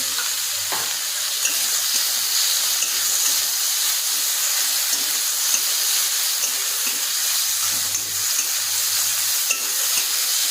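Ground spices — cumin paste, cumin powder, coriander, chilli and turmeric — fry in hot oil for a fish jhal with bitter gourd and potato, giving a steady close sizzle with occasional stirring scrapes and no talk.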